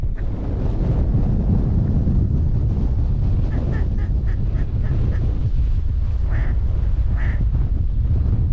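Ducks quack repeatedly at middle distance during a duck hunt in a windy blizzard, with several short calls standing out over steady, loud wind roar across the microphone.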